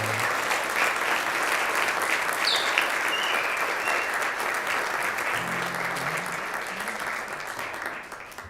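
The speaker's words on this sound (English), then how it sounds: "could you just give my parents a big round of applause?" Sustained applause from a sizable concert crowd, steady and dense clapping throughout with no pauses or voices standing out.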